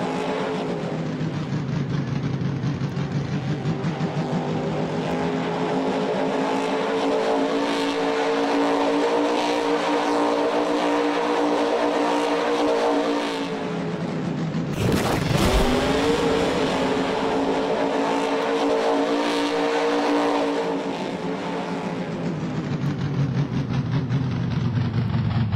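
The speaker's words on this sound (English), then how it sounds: "I'm going to rev it." Vehicle engine in Farming Simulator 19 holding a steady droning hum, then revving sharply upward once midway before settling back to a loud, constant tone.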